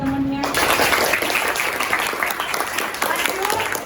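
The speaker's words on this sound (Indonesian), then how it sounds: "Oke, sip, tepuk tangan buat temennya." A classroom of students claps for a classmate, a dense, close burst of applause that carries steadily throughout the clip before easing slightly near the end.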